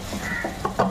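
A spoon stirs garlic chicken curry with fresh coriander leaves in a kadhai, giving a few soft scraping strokes over a low sizzle, close and fairly quiet.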